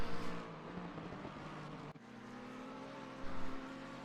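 Race cars, including a Ferrari and a Lexus, roaring around the Monza circuit in a sim racing game, a steady sustained engine drone with a brief dip and a louder surge near the end.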